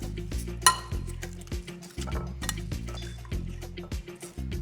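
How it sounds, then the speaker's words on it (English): Sliced apples and sauce pour into a baking pan, making wet, sloshing liquid sounds with occasional clinks against the dish, close and continuous throughout. "I'm gonna pour these apples and sauce right in this pan."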